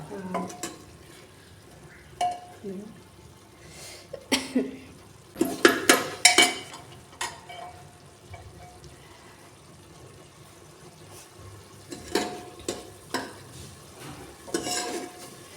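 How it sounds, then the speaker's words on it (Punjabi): Spice masala for aloo baingan frying in a pan, with a soft sizzle under bursts of scraping and clattering as a spoon stirs against the metal, coming in several irregular clusters. "ਸਭ ਮਸਾਲਾ ਜਿਹੜਾ ਸਾਡਾ ਕਿੰਨਾ ਵਧੀਆ ਭੁੱਜ ਗਿਆ ਵਾ"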